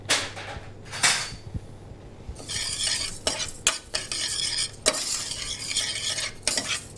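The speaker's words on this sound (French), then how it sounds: "on roule bien le boulgour dans l'huile d'olive" Bulgur stirred in olive oil in a pan, a steady close sizzle with scraping strokes and utensil knocks against the pan, alone without speech.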